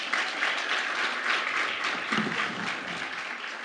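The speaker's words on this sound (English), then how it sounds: "let's clap for ourselves" Audience at a World Tourism Day celebration in a Kigali hotel clapping together, a continuous dense wash of applause filling the room for several seconds.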